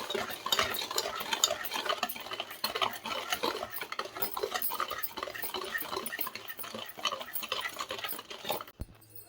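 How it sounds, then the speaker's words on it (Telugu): Cake batter being stirred by hand right after a cup of oil is added, for a home cake made without an oven: steady scraping and clinking strokes in a continuous rhythm, close and clear. "మళ్ళీ ఆయిల్ వేసినాం కదా, మిక్స్ చేసుకోవాలి."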